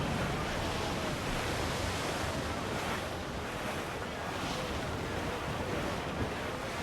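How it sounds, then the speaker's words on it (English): Wind and waves of a squall at sea in Assassin's Creed IV: Black Flag, a steady, dense roar of surf and gusting wind that continues without a break and sits close and full. "Let's catch this squall!"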